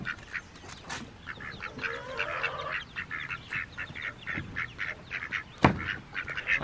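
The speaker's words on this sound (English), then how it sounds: "The ducks want their breakfast." Ducks quack over and over in a barnyard at morning feeding time, a fairly close, steady run of short nasal calls with no talking.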